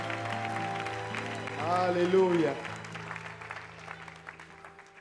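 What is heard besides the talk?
congregation applauding in church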